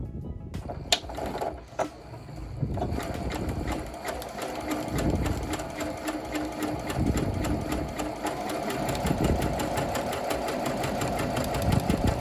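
Sewing machine zigzag stitching running steadily over a raw fabric edge, a dense continuous mechanical whir with rapid rhythmic needle clatter, close and fairly loud throughout after a brief pause near the start.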